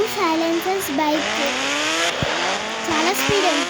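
Blue Hayabusa motorbike racing in a video game, steady engine whine with rising and falling pitch sweeps as it speeds along, mixed with game background sound and occasional thumps.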